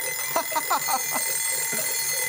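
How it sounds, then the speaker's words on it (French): Cartoon alarm clocks ring from inside a crate on a fire-rescue themed animated show, a rapid string of bright ringing bursts that fade into a steady electronic tone, with faint speech underneath. "Vous savez ce que ce bruit me rappelle? Un réveil."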